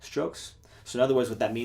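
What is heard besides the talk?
None of the usual background noises is heard.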